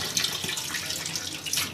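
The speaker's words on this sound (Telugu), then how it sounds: "వాటర్ వేసుకొని కడుక్కొని శుభ్రంగా" Water runs steadily from a tap into a vessel holding soaked urad dal as it is rinsed clean, a continuous close splashing flow with no talk.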